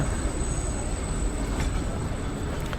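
The Ooty mountain toy train rumbles along the rails up close near Coonoor, a steady loud roar of wheels with faint metallic squeals.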